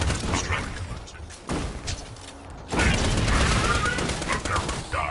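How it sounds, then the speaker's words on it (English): Axton's deployed turret in the Borderlands video game firing rapid bursts amid dense game noise, with a loud sustained stretch of gunfire in the second half. "Just like Axton deploys his turret."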